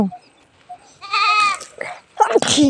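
Sheep on a village farm field bleat twice close by, a long wavering cry followed by a shorter, rougher one after a quiet pause.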